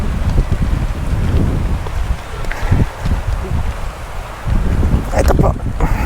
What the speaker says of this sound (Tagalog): Inabot na po ulit kami ng ulan.